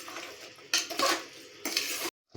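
Chicken masala for chicken sambar stirred in a pot, a few short bursts of spoon scraping against metal with brief pauses between, close and moderately loud.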